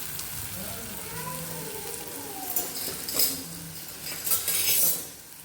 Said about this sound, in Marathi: चांगले भाजून घ्यायचे बरं का कांदे, पोटाला पचावं म्हणून आपण चांगले कांदे भाजून घ्यायचे